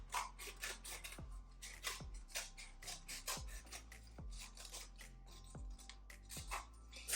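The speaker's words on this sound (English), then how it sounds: "So just going to go in with some scissors." Repeated crisp snips of scissors cutting through card, a dozen or so close cuts in an uneven rhythm with rustling between them.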